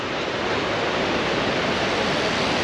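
Sea waves wash in steadily at Tel Aviv beach, a continuous broadband surf hiss and rumble, close and fairly loud, with no voices.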